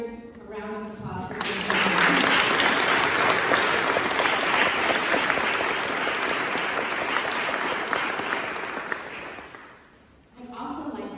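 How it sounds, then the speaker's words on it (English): An audience at a Mental Health Awareness Month event in the Rhode Island State House breaks into loud, dense applause. It swells quickly, holds for several seconds, then fades, with brief talk at the start and end. "Let's give our leaders a round of applause."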